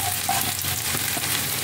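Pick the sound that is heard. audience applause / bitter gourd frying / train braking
bitter gourd frying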